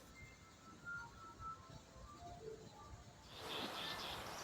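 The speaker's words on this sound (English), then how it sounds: "Up in the branches, a variety of bird sounds echo through the leaves." Birds sing in forest branches, a series of faint, thin chirps and whistles rising over quiet background hiss, with brighter insect-like buzzing toward the end.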